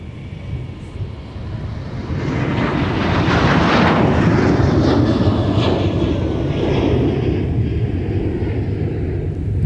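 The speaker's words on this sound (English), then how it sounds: "And there's our Allegiant A320." An Allegiant Airbus A320 airliner at MSP airport roars steadily and broadly, its engine noise swelling after the first couple of seconds and holding loud and close throughout, with no talk.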